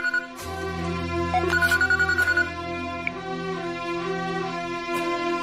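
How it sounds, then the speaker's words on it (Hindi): A phone ringtone repeats in short bursts over a music-film soundtrack, moderately loud, with no one speaking over it, in a Hindi-dubbed South Indian action film scene. "पापा, आप फोन क्यों नहीं उठा रहे हैं?"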